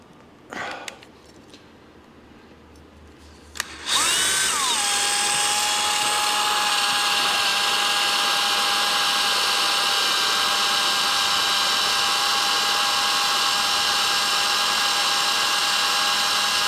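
A power drill with a 1/4 inch bit starts after a few seconds of quiet clicks, then runs steadily and loudly at a high whine with no letup, boring into hardened metal.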